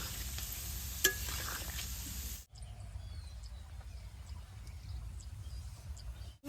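Sweet banana pitha fries in hot oil, a steady close sizzle with faint bubbling crackle, briefly cut off midway before resuming.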